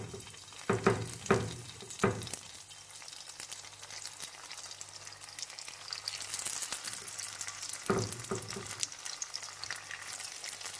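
Spring rolls fry in hot oil in a wok with a steady broadband sizzle, broken early and near the end by a few louder clunks and bubbling bursts as the rolls are handled. No one speaks.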